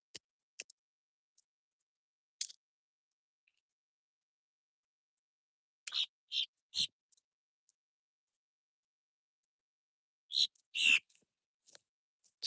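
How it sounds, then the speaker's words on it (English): Birds on a morning walk in Florida, short sparse chirps and high calls scattered across a quiet background, faint and intermittent with long silent gaps and a small cluster near the end. "Just love hearing the birds out here."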